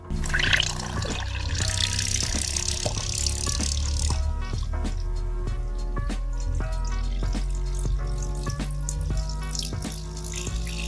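Water pours and splashes onto a Sony waterproof speaker while it plays music, the hissing splash strongest in the first few seconds before the music carries on steadily underneath.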